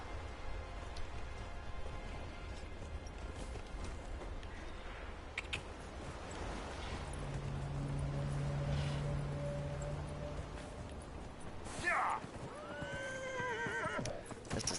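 A horse in the video game Dragon Age Inquisition, with hooves clip-clopping steadily and a clear whinny near the end, set against quiet ambient game sound.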